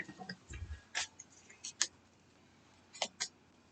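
Board game cards shuffled again at a table during a tournament game after some were dropped, heard as a few short crisp riffles and taps, close and quiet, with no talk.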